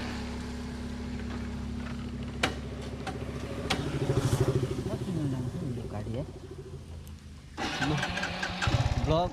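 A motorcycle on a village road sputters and cranks back to life after stalling, with starter bursts and an uneven mid-pitched engine that catches and revs, while people talk over it.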